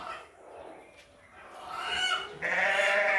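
Goats bleat on a farm at feeding time, a loud drawn-out call rising near the end over quieter background farmyard noise.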